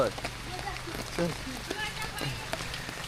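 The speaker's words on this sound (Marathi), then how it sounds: "सध्या आता पाऊस लागतोय" Rain patters steadily on a surface with scattered drops in the Konkan region during paddy planting season, while someone talks nearby over the constant wash.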